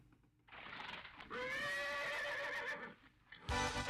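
A synthesized horse whinny from a 1990 PC Engine CD-ROM magazine game, a long, loud, rising-and-falling neigh with a short sharp burst at the end, no voices.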